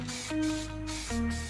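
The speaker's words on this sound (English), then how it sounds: "we're now ready to do the coats of this hologram spray" Steady hissing spray from an aerosol can of hologram spray paint coating an engine bay, broken by short pauses, with a faint tonal hum running underneath throughout.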